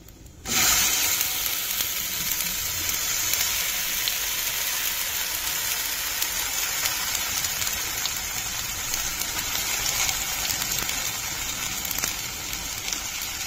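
Loud, steady sizzling of ground flat-bean paste frying in hot oil, starting abruptly and continuing without pause throughout, with no talking.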